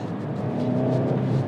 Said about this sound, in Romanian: Hai să ne bucurăm un pic de pocurile evacuarian